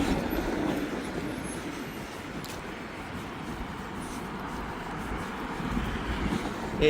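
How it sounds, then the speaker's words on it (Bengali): A tram rumbles past on a Belgrade street at night at steady volume, a low continuous roar with faint rail noise, moderately close, no talking. "হ্যাঁ ট্রাম আছে গো"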